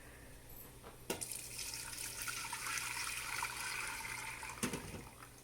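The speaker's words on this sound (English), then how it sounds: "Now I'm going to strain my zhuzhed up beef broth." Beef broth being strained, liquid pouring steadily in a soft, continuous splashing stream in a kitchen, with brief clunks at the start and end.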